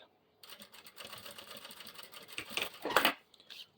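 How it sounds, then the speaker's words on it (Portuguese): A sewing machine stitches a seam on fabric in a quick run of rapid mechanical whirring and tapping, growing louder near the end, with a faint voice underneath. "Faz uma costura bem bonita"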